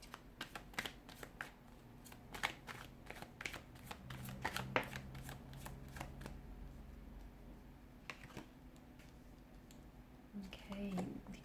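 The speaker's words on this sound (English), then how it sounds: "give the cards a shuffle" A deck of tarot cards is shuffled by hand in a quiet room, with rapid flurries of crisp riffling clicks, brief pauses between bursts, and soft shuffling close by.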